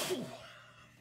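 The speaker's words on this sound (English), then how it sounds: "Did I scare you with the sneeze?" A single short sneeze bursts out at the start and quickly fades, close and fairly quiet, followed by near silence.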